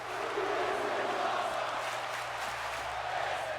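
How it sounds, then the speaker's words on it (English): A video-game wrestling crowd in WWE 2K16 roars steadily in a continuous, dense wash of cheering and shouting that holds at an even level throughout. "The crowd enjoying this one, and so am I."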